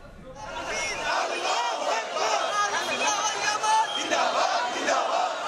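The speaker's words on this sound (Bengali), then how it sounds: "নারায়ে রিসালাত ইয়া রাসূলুল্লাহ, আল্লাহু আকবার স্লোগানে মুখর চারদিক" A large crowd in an Eid-e-Miladunnabi street procession chants religious slogans in unison, a loud, dense, continuous roar of many voices starting abruptly and sustained throughout.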